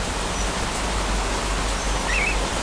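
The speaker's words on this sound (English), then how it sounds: "We've had a lot of rain in Auckland the last few days." Steady rain falling outdoors in Auckland beside an aviary, a dense continuous hiss close by, with a faint bird call briefly above it.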